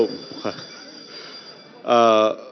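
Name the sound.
bell ringing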